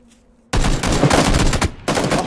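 AK rifle fire rings out in PUBG: after a short quiet moment, a loud, close, rapid burst of automatic shots rattles on, pauses briefly, then resumes.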